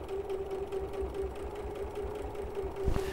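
A sewing machine stitches a no-waste tote bag in a steady continuous whirr, running at an even pace throughout with a faint bump near the end, no voices heard.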